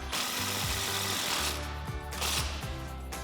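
Steady, loud mechanical buzzing and rattling while a bolt is tightened on a Jeep Wrangler JK's adjustable front control arm, with a 17mm socket on the bolt head and a 19mm wrench on the lock nut. It runs for about three seconds without pause.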